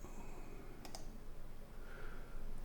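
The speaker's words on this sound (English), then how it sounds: "All I did was go to Google and type" A few quick clicks on a computer keyboard while typing a search query, a short cluster of sharp taps near the start against quiet room tone.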